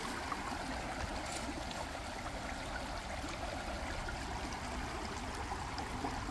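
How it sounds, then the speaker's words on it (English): Loud, steady rush of a flowing stream at a gold-prospecting spot in Indiana, continuous broadband water noise filling the scene with no pauses and no voices. "I know this water's loud"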